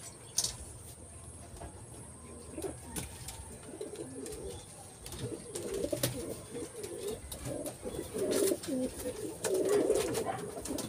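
Soft pigeon cooing in low, throaty bursts, growing more frequent toward the end, with an occasional sharper chirp over a faint steady background hum.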